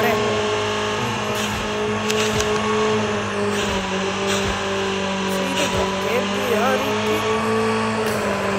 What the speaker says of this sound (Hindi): और मिल भी गई हमें मस्त बाइक